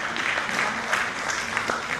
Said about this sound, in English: I request the audience to welcome them with applause.